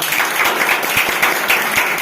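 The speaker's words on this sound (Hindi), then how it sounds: "इसके लिए जोरदार ताली बजाइए।" Loud, close applause for a student at a maths champion prize distribution, with many hands clapping in a dense, steady patter and sharper individual claps standing out throughout.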